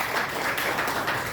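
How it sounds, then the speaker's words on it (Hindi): An audience at a training seminar gives a short burst of applause and clapping, moderately loud and steady, with no talk over it. "जोरदार तालियां मैम के लिए"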